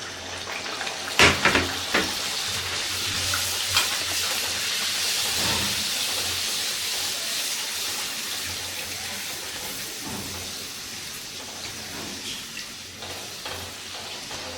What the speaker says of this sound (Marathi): पुऱ्या तळण्यासाठी मी इथे तेल तापवून घेतलेलं आहे त्याच्यामध्ये आपण पुरी टाकून घ्यायची आहे